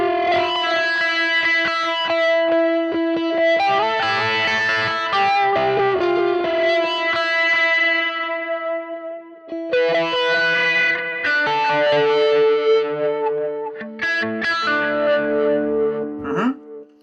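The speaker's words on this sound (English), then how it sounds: "this is moving into a master delay that has the bin drum echo" Clean electric guitar chords through a BOSS GT-1000CORE ring out, trailed by repeating quarter-note echoes from a delay effect, with phrases pausing and resuming over the course of the passage.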